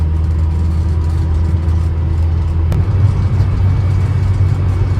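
A 1975 Austin Allegro with its 1100 engine runs steadily at a low, even idle, close by and alone, with a brief click partway through.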